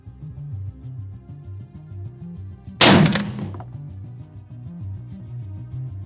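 A single loud, sharp GM-6 Lynx rifle shot firing a heavy 750-grain bullet cracks out mid-clip with a brief echoing tail, standing out over a low rhythmic background hum.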